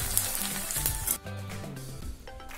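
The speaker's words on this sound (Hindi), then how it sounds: "इसी तरह से हम सारा मक्का पोहा फ्राई कर लेंगे।" Makka poha (corn flakes) deep-frying in hot oil for chiwda, with a bubbling sizzle and brief clinks and scrapes.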